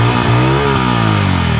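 A motorcycle engine, a Bajaj Pulsar N160, idles close by, with a loud, throbbing exhaust note and a brief blip of revs.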